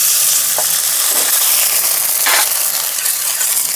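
Water is poured into a pan of lightly fried onions, producing a loud, continuous hiss and bubbling sizzle with a couple of brief surges as the liquid hits the hot oil.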